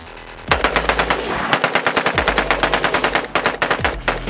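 An AK-47 fitted with a Franklin Armory binary trigger fires in loud, rapid strings of sharp cracking shots with an even beat, a short gap splitting two long bursts.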